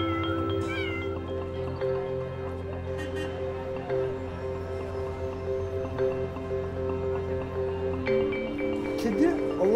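Istanbul street cats meowing, several drawn-out meows and short cries recurring over a steady musical drone, moderately close and clear.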